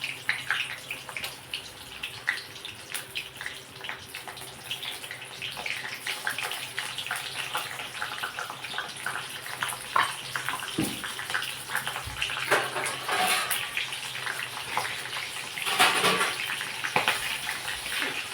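Green chillies for gram dal bhaji deep frying in hot oil on a gas stove, giving a steady close sizzle with dense crackling and popping bursts throughout, no voices.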